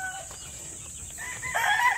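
A white rooster in a chicken coop crows once, a short rising call near the end, over quiet background noise.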